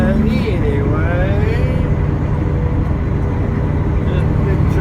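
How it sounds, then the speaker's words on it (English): Big truck passing on a rainy highway, a steady loud roar of engine and tyre noise from inside a moving truck cab, continuous throughout with no break. "this big truck right here is passing me"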